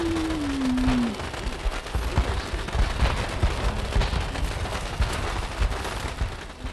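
A burst of crackling, popping explosions rattles on for several seconds after a brief whistling tone, like a string of firecrackers going off in Homefront: The Revolution on PS4.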